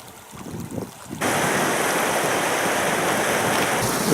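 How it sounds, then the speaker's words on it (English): Hot spring and geyser water at Yellowstone in winter, a steady loud rushing hiss that swells abruptly after a quieter start with faint bubbling, continuing unbroken to the end. "I think this geyser goes off continually."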